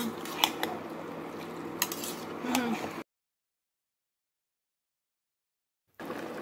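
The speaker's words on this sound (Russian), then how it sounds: "Хорошенько перемешиваю и с момента закипания провариваю также 20 минут." A spoon stirs a zucchini and mushroom salad in satsebeli sauce with garlic and pepper in a pot, giving soft scraping and a few light clinks for a few seconds, then silence, then the stirring noise briefly resumes.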